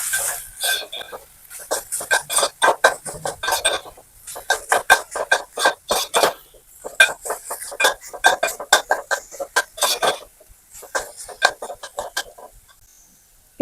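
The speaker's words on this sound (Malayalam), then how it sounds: "നന്നായിട്ട് ഇനി ഇളക്കി കൊടുക്കാം." A spoon scrapes and clatters in a pan while beetroot thoran is stirred, Kerala style, a close, irregular series of metallic clinks and scrapes in quick bursts with short pauses between them.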